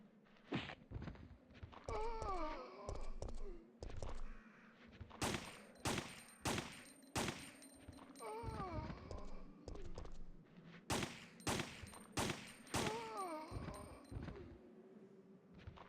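Gunfire from a weapon in the video game Resident Evil 3: Nemesis, heard as repeated sharp shots in irregular bursts over game sounds and music, fairly loud and close.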